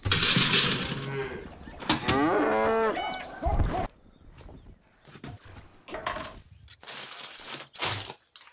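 Cows mooing in the strategy game Stronghold, a couple of loud drawn-out moos near the start, then quieter scattered game sounds and clunks.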